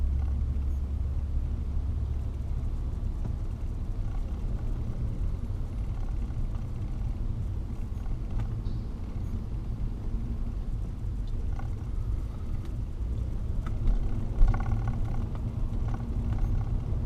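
A car drives slowly past, a steady low rumble of road and engine noise heard from inside or nearby, fairly faint and continuous with a slight rise near the end.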